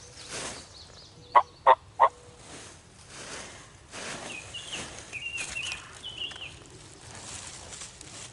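A wild turkey gobbles from about 100 yards out in open woods at dawn, a quick three-burst gobble that rings out loudly over a quiet background, followed by softer distant bird calls.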